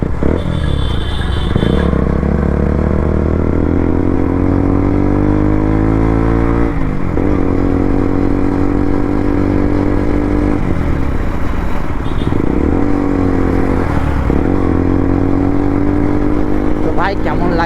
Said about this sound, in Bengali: 3টে বাইক একসঙ্গে যাচ্ছি